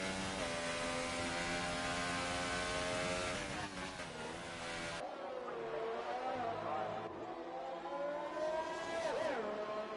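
A Formula 1 car's 1.6 litre V6 turbo hybrid engine in the racing game F1 2018 screams loudly and continuously, rising and falling with gear changes, with a commentator talking over it.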